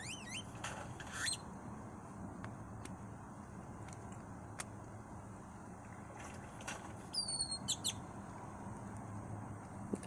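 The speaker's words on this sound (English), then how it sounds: "hearing this bird going off" Birds calling outdoors in nature, a few short chirps and whistled notes scattered over a faint steady background hum, fairly distant and quiet.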